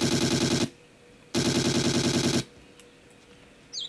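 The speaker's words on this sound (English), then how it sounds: "That was a tranquilizer pistol." A tranquilizer pistol in the game Trespasser fires two loud, buzzy sustained bursts, each lasting about a second, separated by a short quiet gap, followed by faint ambient jungle sound and a brief tail of noise at the end.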